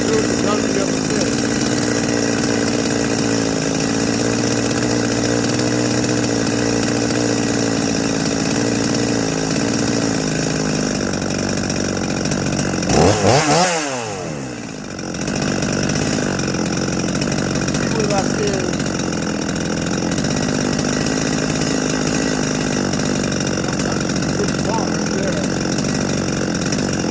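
A Holzfforma G255 chainsaw idles steadily after carburetor tuning, a continuous buzzing drone held close and loud throughout, with one brief dip and surge around the middle.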